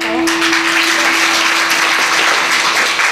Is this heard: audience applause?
yes